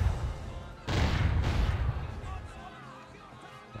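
Ship cannons fire cannonballs in the naval game Age of Pirates 2, two deep booming blasts in quick succession followed by a rumbling decay, with a voice speaking over them.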